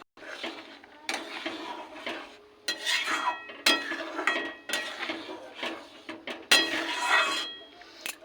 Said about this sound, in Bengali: ডালটা ফুটছে, এবার দিয়ে দেবো একটু চিনি